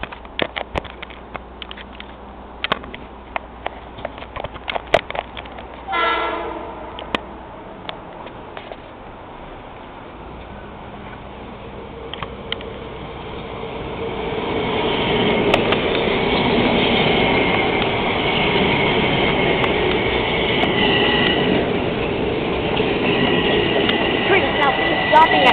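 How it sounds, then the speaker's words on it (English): M7A electric commuter train on a local run toward Southeast, rumbling in and passing with a rising, steady roar and rail clatter building over the second half, with faint voices earlier. "This is the local train to Southeast."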